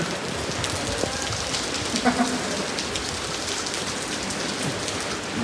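Steady, dense monsoon rainfall in Bengaluru pattering on surfaces, a continuous hiss of drops with no voices.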